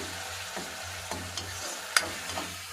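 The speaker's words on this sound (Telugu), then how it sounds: "టమాటా కూడా చాలా చక్కగా వేగిపోయాయి" Tomatoes frying in a pan for a tribal-area flower dish, giving a soft steady sizzle with a few sharp stirring clicks and scrapes spread across the moment, close and fairly quiet with no talking.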